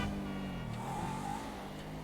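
A heavy supercar in GTA 5 story mode drones with a steady engine note while driving along, with a slight rise in pitch, heard moderately loud with no talking over it.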